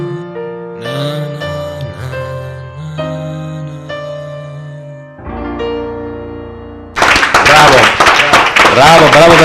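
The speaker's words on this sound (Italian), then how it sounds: "questi applausi te li meriti tutti" Audience applause breaks out after a sung performance at a televised singing contest, loud sustained clapping with cheers rising suddenly after the last held notes fade.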